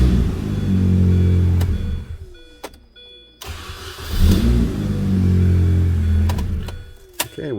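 A 2005 Mini Cooper, just fitted with a new ignition switch after intermittent no-crank trouble, cranks and fires up. The starter grinds briefly, the engine catches and settles into a steady idle, then revs again, heard close and fairly loud.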